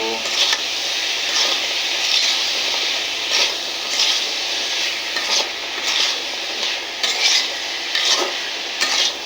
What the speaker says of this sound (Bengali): এই যে এখন আমি নাড়া দিতেছি